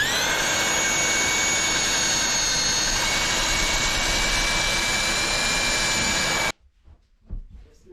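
Power mixer stirring mortar mix for cement backer board in a bathroom, producing a loud, steady high whine with a broad rushing tone that cuts off abruptly near the end, followed by faint shuffling.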